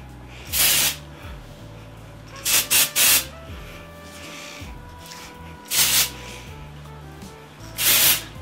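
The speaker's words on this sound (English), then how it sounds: "I will just kind of hold my hair out and spray it" Four bursts of hair volume spray hiss out: one short spritz, a quick cluster of three, then two more spaced bursts, close and loud against a quiet room.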